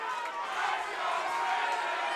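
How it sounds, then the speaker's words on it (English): Boxing arena crowd chanting for a fighter during a bout between Brandon Higgins and Nick Molina, a continuous distant roar of many voices with a rhythmic chant running under it, steady and fairly faint. "to have a crowd chanting you like that, it's got to pump you up."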